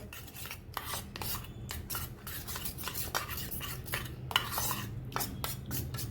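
Jowar flour and water being stirred into a thick batter, giving a rapid repeated scraping and rasping of a spoon against the vessel, close up with a low background hum.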